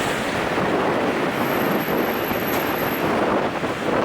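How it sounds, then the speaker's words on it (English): Strong wind buffets a microphone beside an airport road at Toronto Pearson International Airport, a loud, continuous roaring rush with steady gusting turbulence and no speech. "wind's a little bit intense, so I hope that you can hear me"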